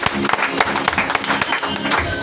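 A church congregation claps hands in quick, irregular bursts, loud and close, with voices mixed in among the clapping.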